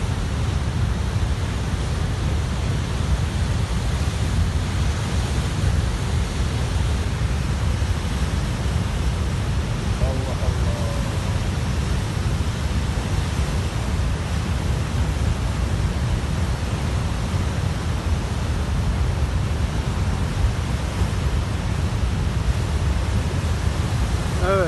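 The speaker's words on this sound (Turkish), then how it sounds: "Dere taşıyor arkadaşlar." A flood-swollen stream in Rize rushes and overflows its banks, a steady broadband roar of churning water that holds constant and loud throughout, with no breaks or pauses.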